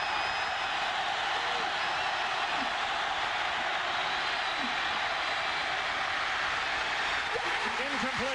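Football stadium crowd roaring steadily throughout a tense fourth-down play late in a college game against Auburn, a loud, dense wall of noise with scattered whistles and shouts, a few voices rising near the end.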